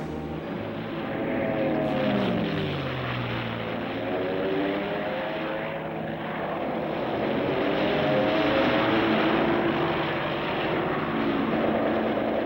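A WWII-era P-51 Mustang propeller fighter drones steadily overhead, a loud continuous engine roar with shifting pitch that swells and eases across the whole stretch, with no voices.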